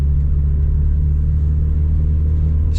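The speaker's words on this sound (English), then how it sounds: "Listen to the car little burbling" A Mazda MX-5 Sport's 2.0L engine burbles with a deep, steady low rumble from inside the car while driving up a steep, slippery wet hill at night, loud and constant with no talk.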